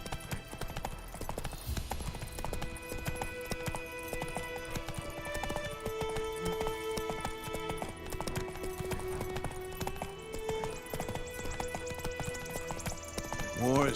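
Horse Roach trotting in The Witcher 3, steady clip-clop hoofbeats running through the whole stretch beneath game music and brief spoken dialogue.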